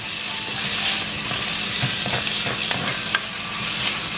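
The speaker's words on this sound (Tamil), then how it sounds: "இதை மிக்ஸ் பண்ணி போட்டு இன்னொரு 2 நிமிஷம் வதங்க விடுவோம்." Tomato and masala sautéing in a pan for shark fish curry, a steady loud sizzle with soft scraping stirs and small clicks, no talking.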